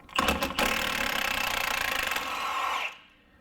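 A power tool drives a socket to remove the outer tie-rod end bolt on a Toyota: a few short bursts, then a loud sustained whirring buzz that cuts off abruptly.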